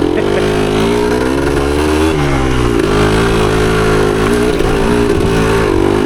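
A 1975 Yamaha DT250 two-stroke trail bike is ridden on a trail, its engine loud and close throughout, rising and falling in pitch with throttle and gear changes.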